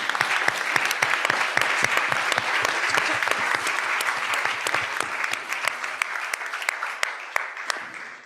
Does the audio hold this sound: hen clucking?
no